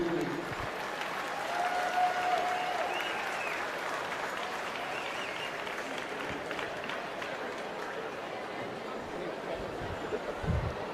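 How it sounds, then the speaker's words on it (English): Steady audience applause at a county youth fair swine show as kids leave the show ring, a broad continuous wash of clapping with a brief faint tone early on. "Give these kids a round of applause as they leave."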